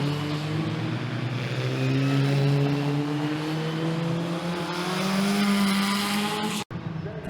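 Historic Formula Ford race cars competing at Cadwell Park, engines droning loudly and continuously with rising and falling pitch as cars pass, ending in a brief sharp cut.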